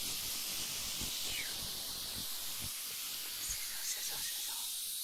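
A voice imitates sizzling food with soft, breathy hissing sounds, close and intimate in an ASMR setting, repeated in a rhythmic pattern over faint background noise.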